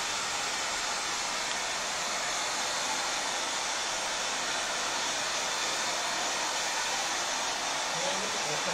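A handheld hair dryer blows steadily and loudly at close range, a continuous broadband whoosh that holds unchanged for the whole stretch with no talk over it.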